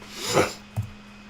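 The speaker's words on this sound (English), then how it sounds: "Excuse me, I got a couple of allergy sniffles." A single close allergy sniffle, a short breathy inhale through the nose followed by a second quicker sniff.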